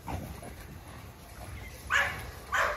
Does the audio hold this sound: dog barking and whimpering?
yes